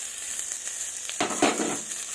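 Potatoes and pointed gourd fry in a pan with a soft, quiet sizzle that swells suddenly about halfway through into a louder crackling burst, likely as the pieces are stirred or lifted; no talking.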